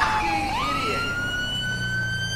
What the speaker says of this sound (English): we'll be also using a new siren that I got installed